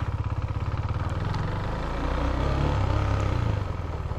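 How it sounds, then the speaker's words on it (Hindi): KTM Duke 390 BS6 motorcycle engine idling steadily up close, a low even rumble with light mechanical clatter that swells slightly midway, with no talking. "बाइक चल रही है अभी"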